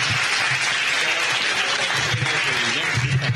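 Close, dense applause from a theatre audience thanking the team behind the film 'Tuvaldeki Sır' at a post-screening talk, loud and continuous throughout.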